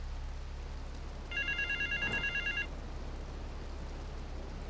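A telephone rings once in Grand Theft Auto III, a short trilling burst of about a second, over a low steady hum, then quiet resumes.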